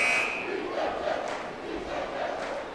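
A crowd of girls chanting in the stands at a boys' soccer match, a muffled, somewhat distant group chant over general crowd noise.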